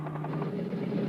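A vintage B-17 bomber, converted to drop insecticide, flies past with a steady, droning engine hum that stays loud and even for a moment.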